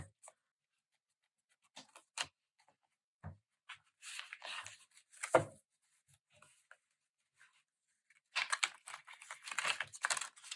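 Small, stiff tarot cards are shuffled in soft, scattered riffles and flicks, quiet and close, with brief pauses and a busier stretch of rapid shuffling near the end.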